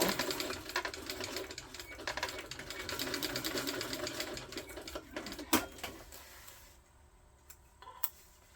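A sewing machine back stitches a seam on a crossbody hip bag, running in a steady rapid rattle for about six seconds before stopping, followed by a few faint clicks and handling sounds.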